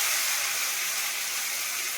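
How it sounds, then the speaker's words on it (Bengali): Blended onion paste hitting hot oil in a pan while cooking hilsa fish biryani, a loud steady hissing sizzle that fills the whole clip without pause. "তেল গরম হয়ে গেছে, এবারে কি করব, আমি এইটা দিয়ে দেবো, দিয়ে পেঁয়াজ দিয়ে ভেজে নেব"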